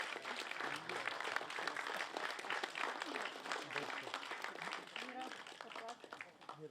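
Applause for award recipients at a formal ceremonial session of a Slovenian veterans' association, sustained crowd clapping over several seconds, fairly faint and even, with voices underneath.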